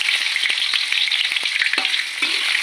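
Shallots and garlic stir-frying in hot cooking oil, a loud continuous sizzle with scattered crackles and the scrape of stirring, no voices.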